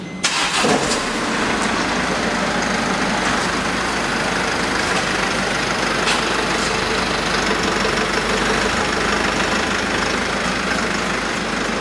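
A car engine starts up with a brief cranking burst, then settles into a steady, loud idle that runs unbroken and alone for the rest of the span, during a driving assessment.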